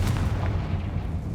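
Confringo fire blast spell in Hogwarts Legacy: a dense, booming burst of low rumble with sharp crackling hits, loud and close for a brief moment.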